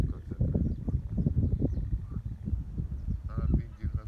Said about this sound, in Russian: Гуси-гуси. Га-га-га.